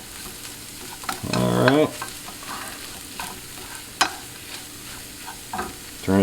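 Mushroom stuffing with chopped chives is stirred in a hot pan, a loud scraping stir burst early, then a low continuous sizzle with sharp utensil knocks, close by; someone speaks briefly at the start.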